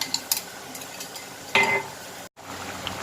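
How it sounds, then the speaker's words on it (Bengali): Chicken keema stirred in a pan, a faint low sizzle under light clinks of a utensil against metal and a brief scraping sweep, with no talk. "এখন আমি এই যে এটাকে ঢেলে দিব এটা একটু নেড়ে চেড়ে নিলেই এটা হয়ে গেল"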